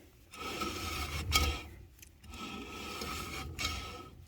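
Scraping rub of a 1989 Dodge Dakota brake drum turned against new brake shoes, a gritty rasping repeated in slow cycles with a brief louder catch at one spot on each turn, close and alone.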